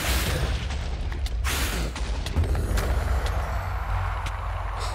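Rapid-fire shooting from a high-rate gun in a video game, with dense booming shots and a few sharp cracks over a constant low rumble, loud and close, with no talking.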